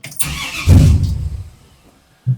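A car engine cranks briefly and catches, bursting into a loud rev that settles into a rough idle, with a short clunk at the end, just after the power steering pump has been replaced.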